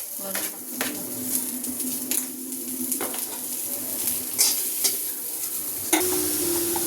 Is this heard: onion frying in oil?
yes